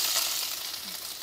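Finely chopped onion hitting hot oil in a pan sends up a steady, even sizzle that holds at moderate loudness throughout, with no voices.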